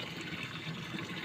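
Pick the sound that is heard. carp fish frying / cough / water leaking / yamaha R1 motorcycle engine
water leaking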